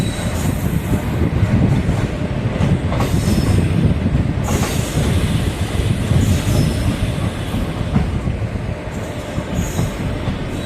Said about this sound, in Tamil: ட்ரெயின் சூப்பராக மூவ் ஆகுது.